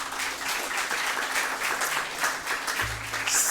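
A church congregation breaks into sustained applause, a dense, even wash of many hands clapping that fills the room from start to finish.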